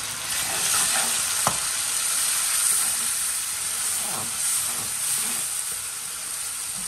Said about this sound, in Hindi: तो अब हम करेंगे इसको मिक्स।